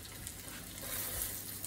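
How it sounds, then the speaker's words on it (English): Duck skin fries in lard and butter in a hot pan, producing a soft, continuous sizzle and crackle heard close up and fairly quiet. "Sizzling state of affairs. We're just gonna slightly brown off the skin."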